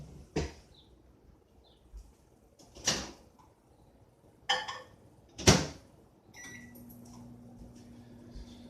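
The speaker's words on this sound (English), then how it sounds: "the microwave is going" Several sharp clunks and clicks of a door latching, followed by a steady low electrical hum of an appliance running, close by and quiet.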